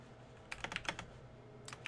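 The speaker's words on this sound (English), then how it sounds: "It's a lot of typing" Computer keyboard typing during a Fallout 4 gaming stream: a few scattered bursts of quick keystrokes, with pauses between them and another short cluster near the end, fairly close and fairly quiet against a soft background hum.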